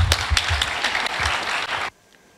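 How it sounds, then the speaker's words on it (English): Audience applause fills a student induction programme at a school of computer science, steady dense clapping for close to two seconds before cutting off abruptly into near silence. "Please, a big round of applause for sir to come and share his precious words."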